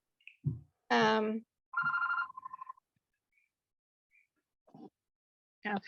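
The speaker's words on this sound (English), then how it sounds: "My phone is ringing." A short electronic phone ring, two quick trilling bursts, stands out amid brief bits of nearby speech and silence.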